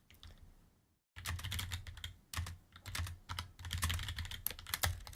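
Computer keyboard typing in rapid, irregular bursts of clicking keystrokes, close and fairly loud, after about a second of near silence and with short pauses between runs.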